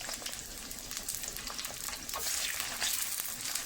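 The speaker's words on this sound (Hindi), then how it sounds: "ये हमने काट लिया था इसको और इसको ऑयल में अच्छी तरह से हम फ्राई करते हैं" Sliced okra fries in hot oil with a steady, close hiss of sizzling that swells a little louder toward the end, alone with no voices.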